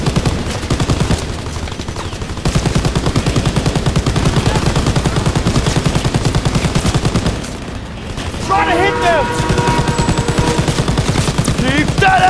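Rapid, continuous machine-gun fire in Call of Duty: WWII, loud and relentless, with shouting voices breaking through near the end.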